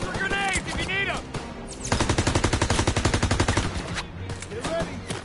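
Sustained automatic weapon fire from a World War II battle in Call of Duty, a dense rapid burst of shots running for several seconds, preceded by shouting voices and mixed with battlefield noise.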